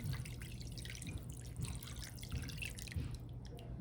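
Liquid mixture poured over chicken noodle soup ingredients in a kitchen, heard as a steady dripping, trickling flow with low background hum, fairly quiet and without speech.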